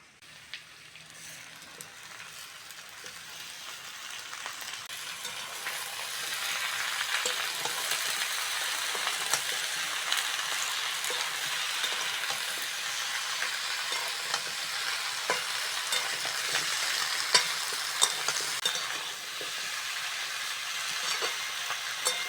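Malabar spinach tossed into a hot pan for a prawn and pumpkin chhyachra, its sizzle swelling after the first seconds into a steady, moderately quiet frying hiss broken by soft scraping stirs.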